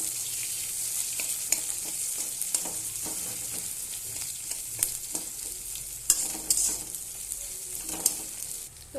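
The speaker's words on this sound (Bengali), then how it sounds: "এবার এখানে আমি পেঁয়াজ কুচি দিয়ে দেবো, বড় সাইজের দুটো পেঁয়াজ। পেঁয়াজটা এবার ভালো করে একটু লাল করে নেব।" Two large chopped onions fry in oil until reddish, with a continuous bright sizzle and frequent ticks of a stirring spoon against the pan. The sound is close and steady throughout, with no talking.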